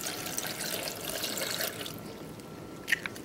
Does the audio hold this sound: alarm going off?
no